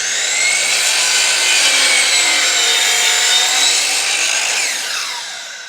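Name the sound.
saw cutting tall wooden baseboard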